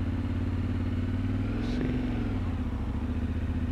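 Yamaha Tenere 700 motorcycle riding slowly around town, a steady low engine drone close up throughout with a faint rise in revs midway, no talk.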